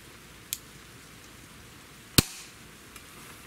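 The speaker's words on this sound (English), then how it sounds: "shot number one" A Diana LP8 Magnum .177 breakbarrel spring-piston air rifle fires one sharp, loud crack, preceded by a smaller click and followed by a faint tick, all close by against quiet room noise.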